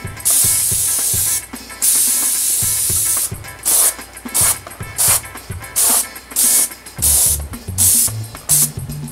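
Airbrush spraying brown paint onto a prop arm and mask head, loud close hissing bursts that start and stop repeatedly, with longer sprays early and shorter rhythmic puffs later, no talking.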